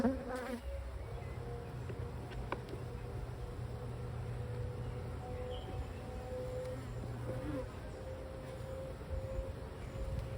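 Honey bees buzzing steadily around an open beehive during an inspection with capped brood frames, a continuous insect drone that fills the whole stretch at moderate level with no talking.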